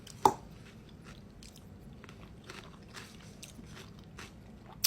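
Someone chews a big homemade salad, with soft crunchy bites and mastication close up and quiet, plus a couple of sharper crunches at the start and end.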